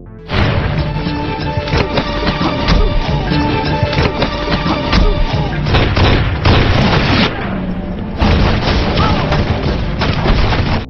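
Film shootout gunfire: loud, dense bursts of shots and blasts pile up almost without a break, with a couple of short dips before the barrage resumes.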